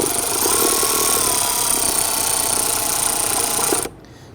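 Power tool tightening the rear battery bracket J-hook on an Infiniti G37, a continuous whirring buzz close by that runs steadily for nearly four seconds, then cuts off abruptly into quiet.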